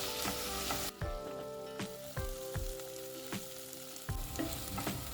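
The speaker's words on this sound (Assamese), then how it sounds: "পিঁয়াজখিনি গোল্ডেন ব্ৰাউন হোৱালৈ ফ্ৰাই কৰিম এয়া মই মিডিয়াম ফ্লেমত ফ্ৰাই কৰি আছোঁ" Onions frying over a medium flame for a goat mutton curry, steady close sizzle broken by several sharp scraping knocks of a spoon stirring against the pan at irregular intervals.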